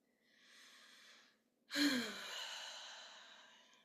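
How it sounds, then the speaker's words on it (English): A slow, deep breath during guided relaxation: a soft, airy inhale, a short pause, then a longer, louder exhale that fades out. It is close and quiet, with no talking. "Take some deep breaths."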